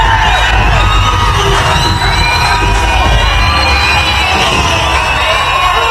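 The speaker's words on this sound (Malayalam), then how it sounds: "വിജയുടെ ഇൻട്രോയ്ക്ക് ഫാൻസിൻ്റെ അകത്ത് നിന്ന് കിട്ടിയ ഒരു റിയാക്ഷൻ്റെ സൗണ്ടാണ് ഇനി നിങ്ങൾ കേൾക്കുന്നത്" A packed theatre crowd of fans cheers, whoops and shouts wildly as Vijay makes his entrance in the film Jana Nayagan, a dense, loud, continuous roar with shrill whistles and screams throughout.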